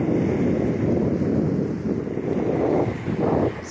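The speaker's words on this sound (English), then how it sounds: "It's really windy." Strong wind on Chesapeake Bay, Virginia, buffeting the microphone in a continuous loud roar, with gusts swelling near the end and a faint wash of water underneath.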